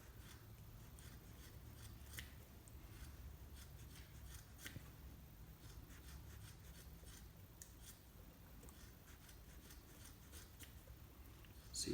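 Scissors snip steadily through a yarn ball being trimmed down to size, a continuous soft cutting and rubbing texture with faint rustle throughout, close and fairly quiet, with no talking.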